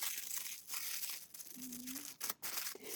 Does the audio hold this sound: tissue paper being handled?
yes